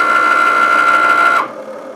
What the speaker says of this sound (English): the first thing it's going to do is suck this bad boy all the way through the machine, and it's going to check its blade